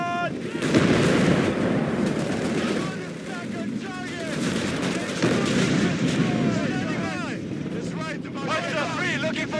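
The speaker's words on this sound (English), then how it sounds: "Anti-tank gun!" In the Company of Heroes 3 North Africa battle, an anti-tank gun fires amid a dense roar of engines, explosions and gunfire, loud and continuous with shouted unit voices over it.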